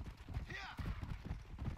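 Horse hooves clip-clop in Red Dead Redemption, a quiet and fairly regular series of hoof strikes with a brief whinny-like sound near the start and soft talking over it.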